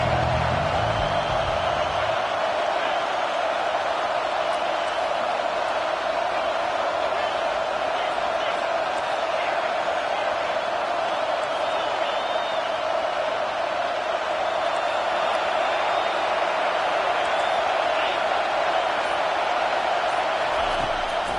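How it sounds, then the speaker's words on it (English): Stadium crowd at an Orange Bowl football game roaring steadily on a third-down defensive stand, a dense sustained wall of cheering and whooping throughout, with no clear talk over it. "Decibels rising as the crowd gets behind this defense on 3rd down."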